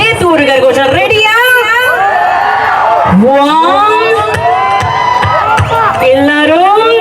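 A large concert crowd in Vavuniya cheers and whoops loudly in a continuous roar, with shouting voices and babble filling the air; no clear clapping stands out.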